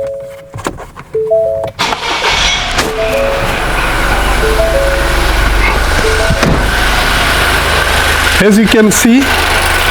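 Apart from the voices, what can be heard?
2020 Ford Escape engine starting and idling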